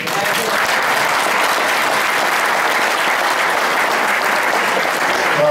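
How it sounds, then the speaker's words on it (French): A crowd applauds basketball players at an ALM Evreux Basket event, with dense, even clapping throughout at a steady, fairly loud level. "laisser surtout applaudir les joueurs qui sont les premiers acteurs de cette réussite"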